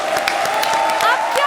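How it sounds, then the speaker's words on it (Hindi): Audience applause on a Hindi comedy show stage: a brief burst of dense clapping with scattered cheers and crowd noise, carried under a steady tone and some voices. "जोरदार तालियां इनके लिए।"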